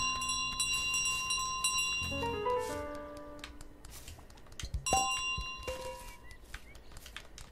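A bell carried by the goose in Untitled Goose Game rings with bright, sustained metallic tones, shifting in pitch as the goose moves, with a louder struck ring near the end; no one talks.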